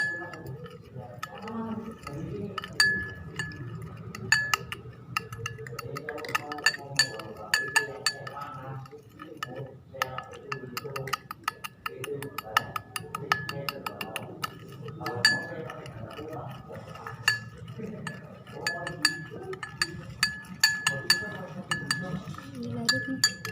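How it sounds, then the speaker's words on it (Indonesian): A stirrer clinks repeatedly against a glass while sugar is stirred into water, quick uneven metallic taps recurring throughout, with a voice talking underneath. "Gunakan pengaduk sebagai media untuk mengaduk gula ini"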